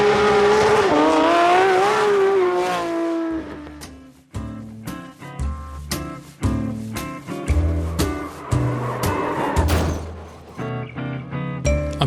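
A Porsche 911 Cup race car driven in a sim racing video game: a loud engine holds a high rev, then drops through downshifts with sharp throttle blips and rising pulls as it accelerates again.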